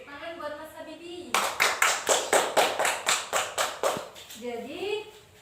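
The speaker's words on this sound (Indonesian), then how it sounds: "Sudah, tepuk tangan buat Mas Habibi." A classroom of pupils claps in unison for a classmate, about a dozen crisp rhythmic claps in quick succession, close and loud, with a teacher's voice talking just before and after.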